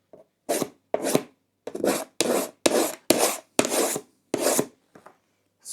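Scratching back paint on a painting: about nine short rasping strokes in a steady rhythm, close and fairly loud, each a brief abrasive scrape separated by silence, with no talking.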